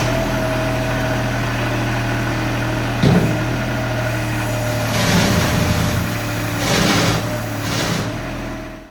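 A GT1000 tracked machine with a bucket runs its engine at a steady, close idle, swelling slightly a few times, with no talking.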